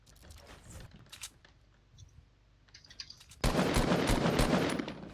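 Gunfire in a multiplayer shooter video game: scattered faint shots and clicks at first, then a loud, dense burst of sustained automatic fire dominating the last couple of seconds.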